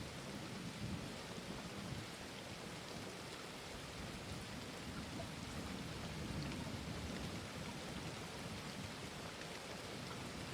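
Steady heavy rain pours down with low rolling thunder rumbling beneath it, a continuous, even wash of sound with no voices.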